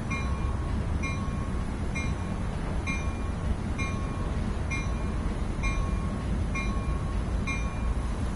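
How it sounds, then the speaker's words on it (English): Train Sim World 2020 passenger train pulling into the San Francisco terminal, a steady rolling rumble with rhythmic wheel clicks and faint high squeals, heard alone without talk. "Welcome aboard train 261 as we pull into San Francisco."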